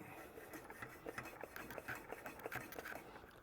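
A hand pump on the fuel tank of a Coleman 285 lantern works in quick repeated strokes, each a short raspy push, close and faint, with no talking.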